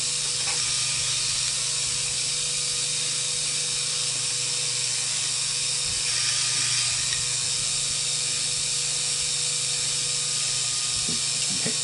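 A BEAMNOVA electric wire stripping machine for scrap copper runs quietly and steadily, a continuous mechanical whir with faint ratcheting clicks throughout and no voices.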